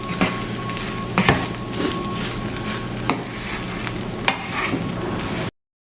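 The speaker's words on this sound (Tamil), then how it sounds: "இந்த உருளைக்கிழங்கு போட்ட அப்புறம் 2 நிமிஷம் விட போகிறேன். கிளறி விடுங்க." A potato filling for fish rolls fries and is stirred in a pan, a steady close sizzle broken by a few sharp scrapes and knocks of the spoon, with no voices.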